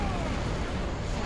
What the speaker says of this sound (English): Too many explosions.